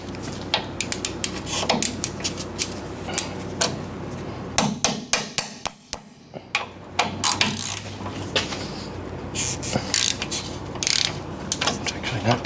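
Ratchet clicks and metallic clanks come from loosening the lower front shock bolts on a 1988-1994 GMC 3500 dually: bursts of fast, close ratcheting broken by short pauses and tool knocks.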